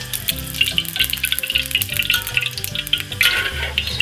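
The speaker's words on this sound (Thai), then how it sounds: "ตั้งกระทะที่สีห้อนแล้วใส่น้ำมันหมูเข้าไปครับ" Lard crackles and sizzles in a hot pan, with busy popping and spattering close by, alongside some tonal background hum.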